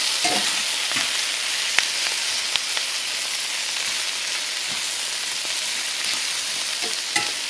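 Sizzling fajita vegetables being stirred with chili powder in a hot pan, a loud, dense, steady crackle with faint scrapes of the spoon, no voices.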